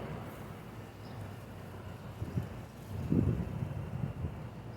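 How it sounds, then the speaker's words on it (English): Wind moves through tall corn plants in a garden, a soft, steady rushing with a faint rustle, rising into slightly stronger gusts toward the end, with no voices. "enjoying the sound of the corn. The wind in the corn."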